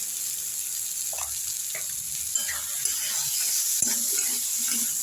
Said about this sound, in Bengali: সবগুলো দিয়ে আমি একটু নেড়ে নিচ্ছি।